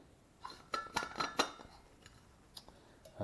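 Metal cook kit cup and nesting bottle being handled and packed for a one-night winter camp, giving a short run of close clinks and knocks, then a few sparse taps and a final clatter.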